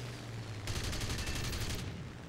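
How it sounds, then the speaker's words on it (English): A short, rapid burst of aircraft cannon fire from a Ki-61 Hei Hien in War Thunder rattles for about a second over a steady engine drone, fairly distant and muffled. "we catch them quite nicely with our cannons"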